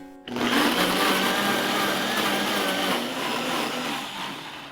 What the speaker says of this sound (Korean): 먼저 배부터 갈겠습니다